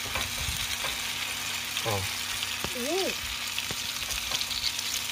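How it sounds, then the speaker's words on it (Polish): Breaded cutlets frying in a pan over low heat at about 180 degrees give a steady, dense sizzle throughout. A voice makes a brief exclamation partway through. "I smażymy na wolnym ogniu, prawda?"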